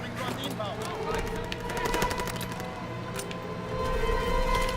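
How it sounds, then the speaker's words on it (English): A carpet-bombing airstrike in the Call of Duty: WW2 video game brings a dense, continuous roar of rapid gunfire and rumbling blasts with whining tones, loud and sustained throughout. "Alright, we want a carpet bombing."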